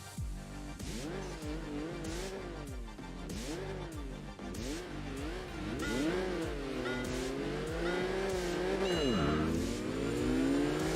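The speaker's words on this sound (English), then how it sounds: "Full field of Nismo Skylines just tearing through San Francisco." Nismo Skyline race cars in a full one-make field tear through San Francisco in Enthusia Professional Racing, engines revving up and down in rising and falling sweeps, with tire squeal and gear changes, loud and continuous.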